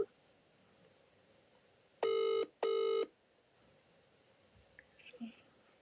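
Outgoing phone call ringback tone, two clear rings with a short gap between them, fairly loud against a quiet background, followed by faint rustling.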